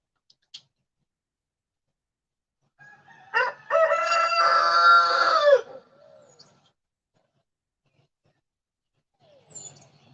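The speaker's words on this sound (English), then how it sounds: "He's the head rooster, y'all." A head rooster crows in the morning: one loud, close cock-a-doodle-doo lasting about two seconds, set against near silence with only a few faint clucks and noises before and after.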